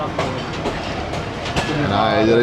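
Jaffer Express passenger train rolling along the rails between Sadikabad and Lahore, a steady loud rumble with faint clickety-clack and a rising squeal of wheels, heard from close by with some voices underneath.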